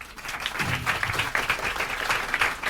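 A warm round of applause rises for Francesco Sisci at the Foreign Correspondents Club in Beijing, with indoor clapping that builds after a brief start and stays dense and steady to the end.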